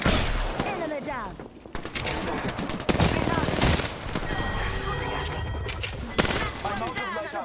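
Automatic gunfire and bursts of shots in the battle-royale game Apex Legends, dense repeated volleys with sharp bangs across the stretch, mixed with game sounds and a voice talking over the action.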